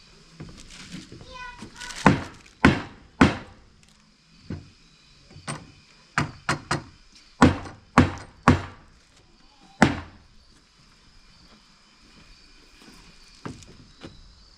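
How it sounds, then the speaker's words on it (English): Sharp wooden thumps ring out as laminated frame parts are banged down during a boat frame glue-up in a workshop. About a dozen irregular, close, loud knocks come in clusters with short pauses, after some brief talk at the start. "I want to bang these guys down a little bit."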